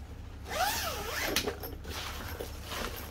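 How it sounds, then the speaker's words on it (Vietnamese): Zippers on fishing rod bags are pulled open and closed up close, giving several quick rasping zips over a steady low background hum. "tất cả cái khóa kéo là ngon lành hết."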